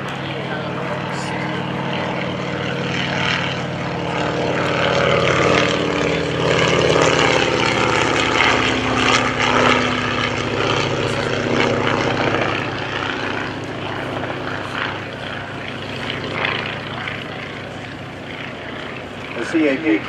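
A propeller primary trainer aircraft flies at a World War II weekend event, its engine droning continuously and loud with a rising and falling throb, while a voice talks over it throughout.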